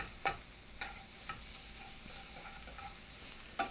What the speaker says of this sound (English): Mix that about.